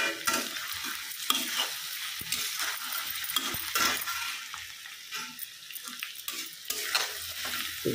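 A spoon stirs a spiced potato and drumstick curry in a pan, close scraping and wet sloshing with soft sizzle and occasional metallic clinks, irregular strokes over several seconds.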